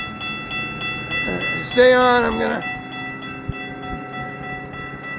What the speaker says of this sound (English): there's another train coming